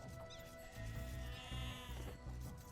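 Sheep bleat in Age of Empires 2, a few short wavering calls over a soft game backdrop of ambient tones.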